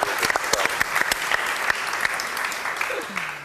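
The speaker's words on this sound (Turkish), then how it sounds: "Şimdiden alkışlanmaya alışması için bir alkış yapalım mı?" Studio audience applause on a Turkish TV talk show, a brisk burst of many hands clapping with sharp individual claps standing out, fading slightly near the end as a voice begins.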